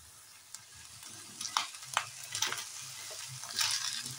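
Cooked rice is stirred into spinach sizzling in oil in a pan for palak paneer pulao: a steady close fry with scraping spatula strokes and louder crackling bursts as it is mixed.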